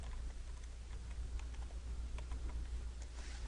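A command is typed on a computer keyboard, with light, quick key clicks in a steady patter over a constant low hum in a lecture room.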